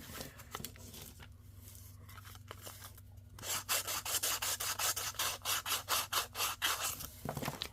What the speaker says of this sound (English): should just come right, if I sand enough,